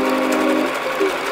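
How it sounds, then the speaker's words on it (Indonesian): Sewing machine stitching a canvas yoga mat bag, a brief steady motor whir with a tonal hum, close and continuous. "kemudian sisi satunya juga kita jahit ya teman-teman"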